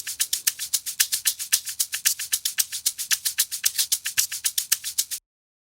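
Three layered shaker samples loop together in an afro beat, a steady, dense run of bright rhythmic shakes with a bouncing pulse, loud and alone before stopping abruptly.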